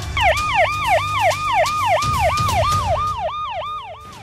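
A loud wailing ambulance siren sweeps up and down in fast repeated cycles, close by, with traffic rumble underneath and no speech.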